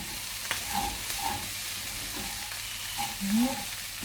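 Food for lasagne being stirred in a hot frying pan, a soft continuous sizzle with occasional scraping, fairly quiet and without talking.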